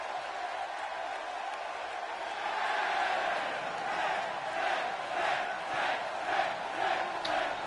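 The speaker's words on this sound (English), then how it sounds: "There's the crowd here in Union Dales chanting 10, 10, 10 for the Perfect 10" An arena crowd at a wrestling show in Union Dales chants in rhythmic waves, a steady roar with regular pulsing swells growing in the second half, heard from a distance.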